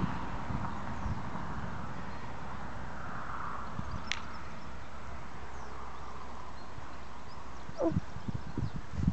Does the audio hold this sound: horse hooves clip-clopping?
yes